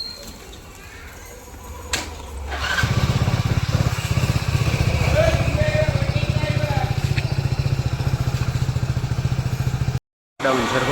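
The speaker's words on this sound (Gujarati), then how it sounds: "જો આ છે મારી બાઈક" A motorcycle engine runs steadily on a road, a loud continuous low rumble that starts a few seconds in and persists, with a brief cutout near the end.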